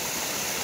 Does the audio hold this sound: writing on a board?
no